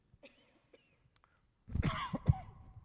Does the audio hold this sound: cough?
yes